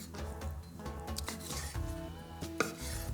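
A knife cutting skinless pork belly into thick slices on a board, producing a series of close, irregular thuds and clacks with faint clinks of kitchenware between the cuts.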